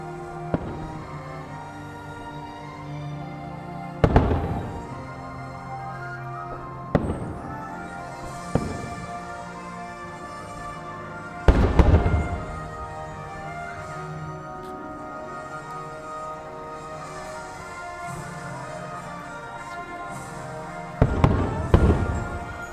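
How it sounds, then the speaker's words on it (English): Fireworks show at Disney World, with heavy booming bursts spread across the clip, several sharp loud blasts and crackling tails over a steady rumbling background of distant explosions and crowd ambience. "you can see the fireworks and from there, and you can also listen to the entire show"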